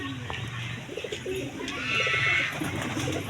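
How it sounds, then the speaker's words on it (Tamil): Pigeons coo in low, soft, rolling calls close by outdoors, repeating through the moment, with a faint chirping bird and background murmur behind them. "நம்ம புறா வேற"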